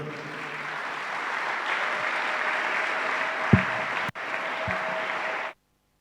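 Sustained applause from a church congregation welcoming the pastor, a dense even clatter of clapping that swells slightly, then cuts off abruptly.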